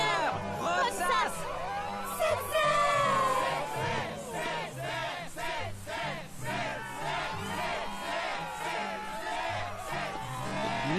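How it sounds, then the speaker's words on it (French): Crowd cheering and shouting at a Struggle match in Kingdom Hearts II, a loud, sustained roar of many voices with whoops and excited calls rising and falling throughout. "La foule est en délire."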